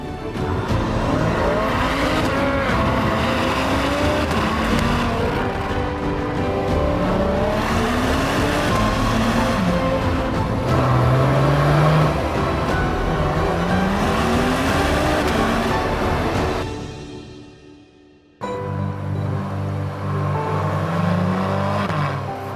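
A 2024 Acura TLX Type S sports sedan under hard acceleration, its engine note climbing and dropping through repeated gear shifts, loud and close throughout, with a brief dip to near silence late in the drive.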